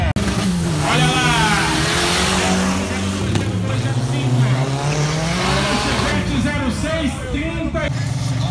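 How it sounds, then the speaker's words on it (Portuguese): Race cars launch from the start line at a drag racing and drift event. Loud engines rev and scream under excited Portuguese commentary and crowd noise, with rising pitch sweeps as the cars accelerate away. "Atenção! Dado a largada lá! Olha o Bolso saindo!"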